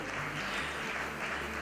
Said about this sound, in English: I think we can have a much bigger round of applause